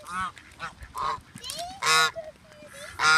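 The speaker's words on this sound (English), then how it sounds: "Geese." Several geese honk in short, loud bursts, some overlapping, with brief pauses between calls.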